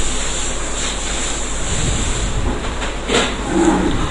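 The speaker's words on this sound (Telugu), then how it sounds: "నెయ్యి కరిగిన తర్వాత జీడిపప్పు, బాదం కూడా వేయించుకోవాలి లైట్గా దూరగా" Cashews and almonds frying lightly in melted ghee in a kadai, a steady soft hiss and sizzle with a brief louder crackling burst near the end.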